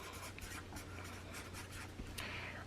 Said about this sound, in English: I'm going to write your name down too